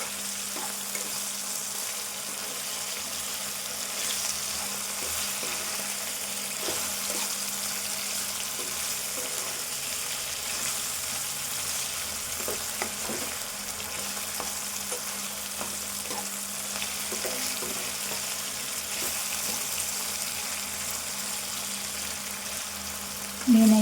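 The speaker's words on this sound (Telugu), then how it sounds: "ఇవన్నీ కూడా వేగదాకా వేయించుకుందాము" Ginger and onion frying in oil for potato pulao give a steady, soft sizzle that holds evenly from start to finish, with faint scattered crackles and a louder clatter at the very end.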